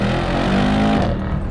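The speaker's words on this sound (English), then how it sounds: "when that exhaust is popping behind you" Mercedes-AMG E63 S wagon exhaust burbling and popping close by, a loud steady engine note with harmonic drone that eases off toward the end.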